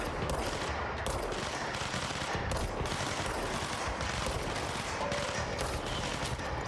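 Dense gunfire crackles through a firefight in the game Control, rapid bursts of shots sounding continuously and loud, close and unrelenting, with no gaps for several seconds.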